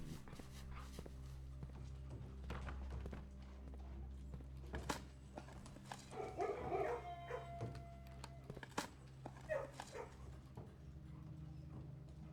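A dog in the kennel of the Blue Prince video game, with soft bark-like calls and shuffling around the middle of the stretch over a steady low hum of game ambience.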